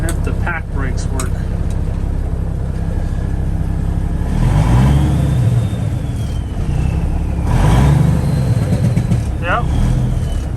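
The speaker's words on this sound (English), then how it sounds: "Jake brakes work." Freightliner dump truck, an abandoned truck being worked on, running its Jake brakes with no load: a loud, rough engine drone with two swelling bursts of engine braking that rise and fall close by, voices talking over it.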